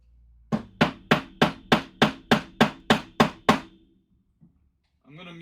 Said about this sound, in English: I was going to try and do this with a mallet.